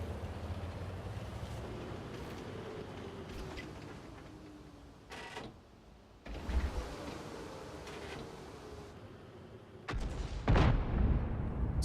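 Artillery fire in the World of Tanks video game comes as several sharp, booming blasts, a few isolated shots followed by a heavier burst near the end, over a low continuous battle rumble.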